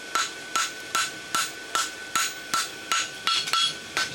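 Hammer blows on an anvil forge-welding the scarf of a lateral extension barshoe by the whip-across method: about ten sharp, ringing strikes in a steady rhythm, loud and close, with no talk.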